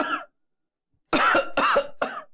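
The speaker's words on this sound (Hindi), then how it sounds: "काली खांसी होगी इसके।" A sick man coughing hard: a short rough sound, a pause, then three loud, harsh cough bursts in quick succession, close by with no talking.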